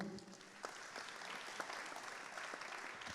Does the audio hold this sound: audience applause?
yes